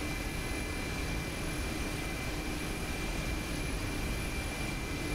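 Mi-8 helicopter in the DCS flight simulator during a descent, its rotor and turbine engines giving a steady, loud, dense drone with a constant whine that holds unchanged throughout.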